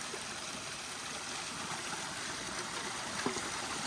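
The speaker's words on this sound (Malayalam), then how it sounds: "വെള്ളം മലയിൽ നിന്ന് ഒളിച്ച് വരുന്ന കേട്ടോ" A mountain stream in Sikkim runs steadily down from the hills, giving a continuous, moderately loud wash of flowing water with a small splash near the end and no voices.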